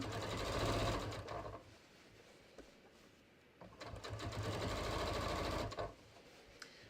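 A sewing machine top stitches the inseam of a half leg of Frenchie jeans, running in steady, fairly loud whirring stretches with a brief slowdown in the middle before it speeds up again.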